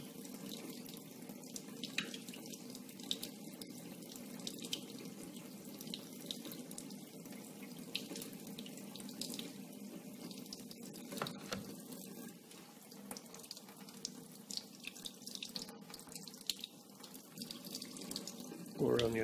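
Hot water runs steadily from a tap onto a heavy, thick-walled glass bottle, a continuous soft splashing rush lasting throughout at low level.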